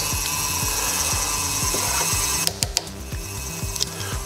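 A tool scrapes and trims the rough top edge of a handmade clay cup, giving a steady rhythmic rasping with regular short strokes, close and fairly loud, ending in a few sharper scrapes.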